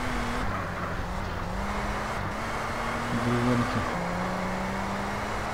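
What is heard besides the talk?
car driving in the video game GTA San Andreas Multiplayer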